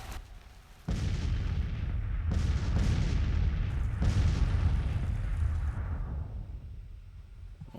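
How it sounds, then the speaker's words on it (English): Artillery batteries firing in the Civil War strategy game Grand Tactician, overlapping heavy booms rolling into one sustained rumble, loud and continuous, several fresh blasts piling in before a slow fade. "my artillery is just laying into them"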